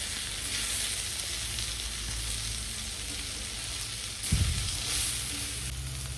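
Garlic chicken roast frying in oil, a continuous hissing sizzle close up with a brief clatter of stirring near the end, loud and unbroken, with no talking.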